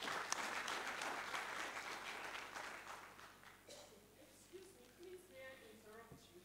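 A live-streamed event in Nigeria carries a crowd's applause for a speaker, a faint, dense patter of clapping that fades after about three seconds, followed by quiet talking.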